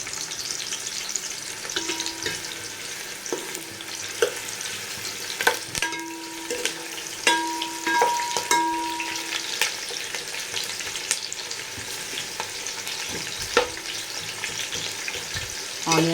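Vegetables for a veg biryani fry steadily in a pan, a continuous soft sizzle with occasional clinks and scrapes of stirring, moderately close and without speech.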